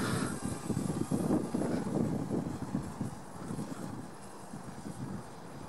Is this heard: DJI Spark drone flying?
yes